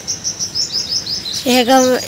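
Small birds chirp in a cool early morning outdoors, a quick run of repeated high tweets followed by a louder, fuller warbling call close by, with no talking.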